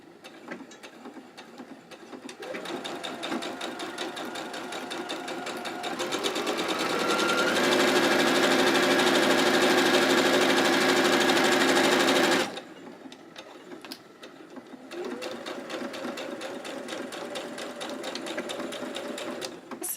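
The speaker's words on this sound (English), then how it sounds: "now I'm going to sew my straight line" A sewing machine stitches a straight seam across fabric while making a pocket, its motor whirring steadily and rising to a loud sustained run in the middle, then easing off. Quieter handling noises come before and after the run.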